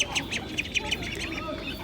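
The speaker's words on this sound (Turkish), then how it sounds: "Burada güvercinler var satılık" Pigeons for sale at a market in Guatemala chirp in quick, repeated high calls against a busy outdoor background, with faint voices murmuring nearby.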